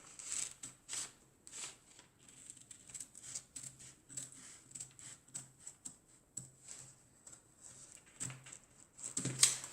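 Scissors snipping through paper corset pattern pieces, a slow run of short crisp cuts close by, quiet and steady without talk.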